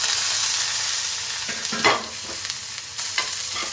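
Garam masala and chopped onion frying in hot oil, a steady broadband sizzle with occasional stirring scrapes and clatters near the pan, no voices.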